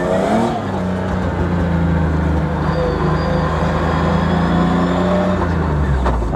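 An old junk car idles and runs loudly up close, its engine drone steady and low while numerous rattles and clunks from the rear chatter continuously over it.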